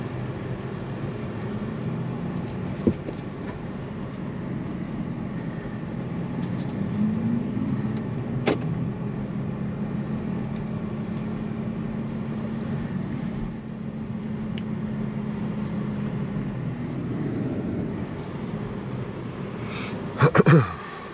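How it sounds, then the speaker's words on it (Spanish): An Audi Q7 55e plug-in hybrid SUV cruising on the autobahn, with a steady, moderately loud cabin drone of road and wind noise that runs unbroken and ends in a brief knock near the close. "esa es la prueba de conducción en autobahn con este precioso Q7 55e, que es híbrido"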